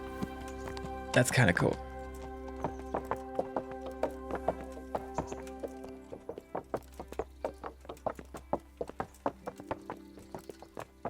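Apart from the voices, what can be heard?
horse hooves walking through puddles in video game Kingdom Come Deliverance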